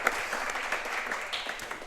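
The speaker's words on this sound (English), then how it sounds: "Can we give a round of applause for the parents tonight, Greg, and you guys?" Crowd applause for the parents at a high school football coaches' show, a brief, continuous patter of many hands clapping at moderate volume, slightly distant, with no talking over it.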